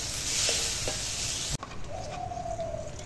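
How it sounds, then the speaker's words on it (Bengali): Bay leaves and dried red chillies hit hot oil in a pan, a steady hissing sizzle for about a second and a half, then a softer, quieter frying crackle after a brief cut, with no talking. "এখন তেলের ওপর তেজপাতা শুকনো লঙ্কা দিয়েছি"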